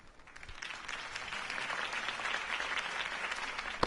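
A crowd at a Harvey Dent campaign rally in the Batman Telltale Series video game applauds in a sustained burst of clapping that swells and then holds steady at a moderate distance, with no voices.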